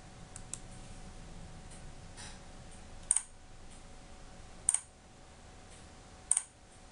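Someone types C++ code on a computer keyboard: quiet, scattered key clicks with three sharper, louder taps spaced a second or so apart, close by and without speech.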